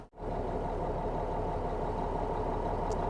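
A dump truck engine idles smoothly while warming up, a steady, even low rumble with a constant mid-range drone that starts abruptly and holds without change.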